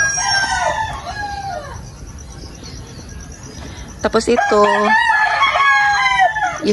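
Roosters crow loudly over clucking chickens and a steady chirping of crickets in a countryside backyard with chicken coops, with a few brief spoken words.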